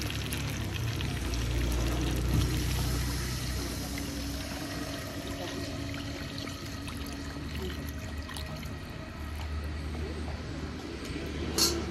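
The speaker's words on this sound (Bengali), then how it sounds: "দেব এবার পরিমাণ মতো জল।" Water pours steadily into a pan for steamed koi fish (climbing perch), making a continuous close rushing splash that lasts the whole stretch with a slight swell near the start and end.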